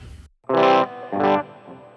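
A heavily overdriven, distorted electric guitar amp model on a Line 6 POD GO rings out in two sustained bursts separated by a short gap, loud and saturated.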